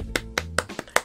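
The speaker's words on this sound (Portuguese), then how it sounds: "Palmas aí." Five sharp, separate hand claps ring out close by in an uneven rhythm over about a second, with a little room echo and a low hum beneath.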